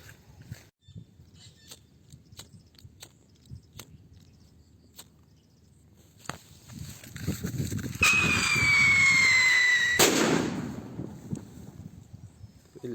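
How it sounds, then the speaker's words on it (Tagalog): A Dreamlight Whistle Bomb DK firework lets out a rising shrill whistle for about two seconds, then bursts in one loud sharp bang, after quiet ticking and outdoor background noise. "Whistle bomb DK."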